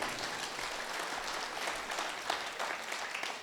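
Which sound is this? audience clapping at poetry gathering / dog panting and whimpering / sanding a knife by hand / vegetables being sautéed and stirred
audience clapping at poetry gathering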